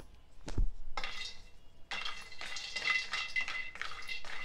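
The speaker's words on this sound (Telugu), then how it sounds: "ముందుగా మూకుడు వేడెక్కినాక ఒక కప్పు వరకు బాదాం వేసుకోవాలి." Almonds, about a cupful, are tipped into a preheated pan and roasted over medium heat, giving a low thump and then a steady loud rattle and scrape of nuts tumbling against the metal.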